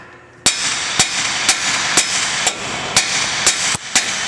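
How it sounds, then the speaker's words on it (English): A big hammer strikes the tie rod end on a Ram 2500 during ball joint disassembly: nine sharp metallic blows land at a steady half-second rhythm, close and loud. "we're going to smack it right here with a hammer"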